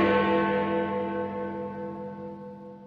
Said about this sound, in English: the bell was again upon the stroke of 1